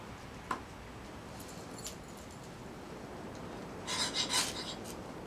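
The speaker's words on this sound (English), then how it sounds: "But you scrape it up in a little pile here." Pine fatwood is scraped into a small pile, making soft, close rasping strokes. The scraping stays faint under a steady background hiss, with a slightly louder cluster of scrapes near the end.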